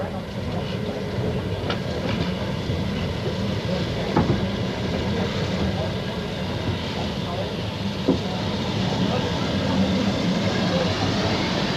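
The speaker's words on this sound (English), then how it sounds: "The train approaching platform 1, Bridgnorth, calling at Arley, Highley, Hampton Road and Bridgnorth" A heritage railway train approaches platform 1 at Bridgnorth, a steady rolling rumble with faint rail clicks and an occasional squeal, heard over a continuous low drone.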